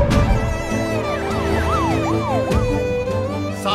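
Ambulance siren wailing in rising and falling sweeps over a dense, steady background of music and traffic, fairly loud and continuous throughout.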